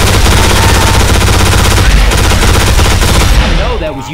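Half-Life Alyx pulse SMG, a custom weapon in Left 4 Dead 2, fires in loud, sustained automatic bursts for several seconds, then tails off near the end. Voices can be heard faintly underneath.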